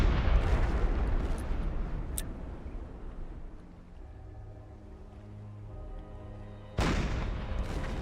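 A submarine deck gun in a video game fires at a ship, a heavy boom at the start that fades into a long decaying rumble, then another sharp blast near the end.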